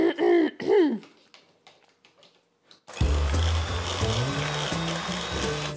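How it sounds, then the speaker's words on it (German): An electric hand mixer switches on and whirs loudly through quark and vanilla sugar, its motor pitch wavering as it churns, following a throat clear and a cough. "Und dann schnappt ihr euch einen Mixer und verrührt das alles ganz schön durch."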